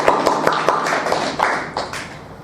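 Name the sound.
applause for conference helpers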